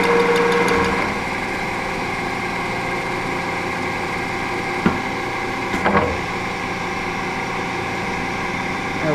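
A milling machine running steadily with a spindle motor hum and mechanical drone, carrying a couple of brief knocks midway, suited to a vise repair in a workshop.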